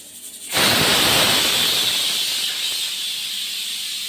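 A pressure cooker lets out its first sudden loud, sustained hissing whistle of escaping steam that slowly eases but keeps going.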